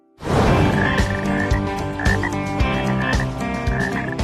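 A frog closely related to the American bullfrog croaks in loud, deep repeated calls, with other croaks overlapping in a dense chorus and no voices.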